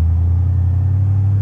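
Steady deep rumble of an idling 1939 Chevrolet pickup truck exhaust, loud and close, holding constant throughout.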